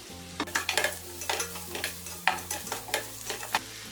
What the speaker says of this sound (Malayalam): ഇത് ഇതിലേക്കിട്ടൊന്ന് വഴറ്റി കൊടുക്കാം.